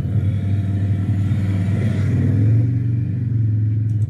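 Motorcycle engine held at steady revs while the rider slips the clutch through a tight section of a competition course, a loud, continuous close rumble with a strong low drone that cuts off abruptly at the end.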